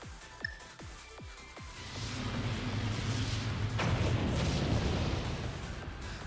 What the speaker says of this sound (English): Fire Laurel Agam 114 air to ground missiles.